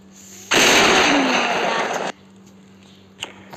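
A missile strike in a World War II strategy video game bursts out as a loud, broad explosive roar lasting about a second and a half, then cuts off to a quiet background with a faint later click.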